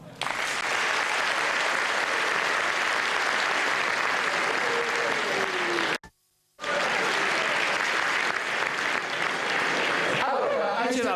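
Loud, sustained applause from a large audience at a football club's centenary gala fills the room, broken by one short silent gap before the clapping resumes and then thins out.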